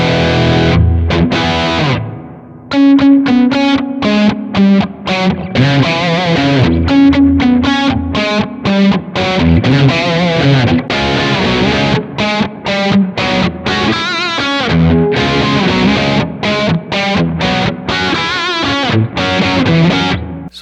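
A Positive Grid Spark practice amp pushes an electric guitar through its drive channel, giving loud, continuous distorted playing with fast picked notes and chords and brief gaps, the crunch steady throughout.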